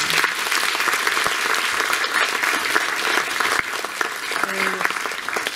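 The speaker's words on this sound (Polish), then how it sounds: "Znowu brawa." A theatre audience at a music school graduation concert gives loud, sustained applause, a dense even wash of clapping from many hands throughout, with a brief tonal sound near the end.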